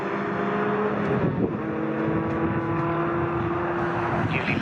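Touring and racing cars in a tin-top series race at Snetterton circuit, including a VW Scirocco, roar past in a continuous dense engine drone with shifting revs, heard from trackside and steady in loudness.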